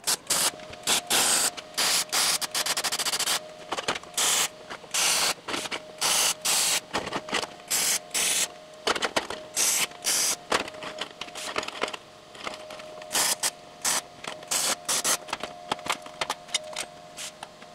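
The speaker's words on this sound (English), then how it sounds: "Start welding." Welding on a rough-draft can crusher weld-it-yourself kit: steady crackling, spitting bursts in repeated on-off runs with short pauses, close and fairly loud, no talking.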